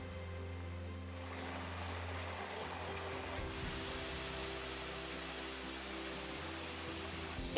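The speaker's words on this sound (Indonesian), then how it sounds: "Keindahan air terjun nampak seperti tirai air raksasa setinggi 15 meter lebih" Steady broadband roar of Curug Mbah Gimo, a waterfall over fifteen meters tall in West Lampung, Indonesia, continuous and loud with a low hum underneath and a brightening partway through.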